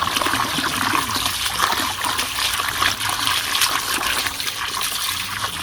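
Sea beans (glasswort) are rinsed in water in a steady, close run of trickling and splashing with small sloshing bursts. No one speaks over it.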